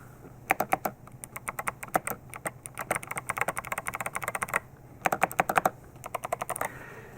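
Typing on an 8BitDo Retro Mechanical Keyboard: dense bursts of crisp, close key clacks in quick irregular runs, with a brief pause midway before another flurry, no talking.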